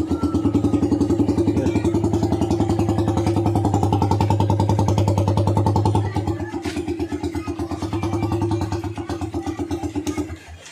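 Motorcycle engine fired up with a swapped horn relay standing in for the starter relay, settling into a steady close chugging idle that changes pitch midway and then stops.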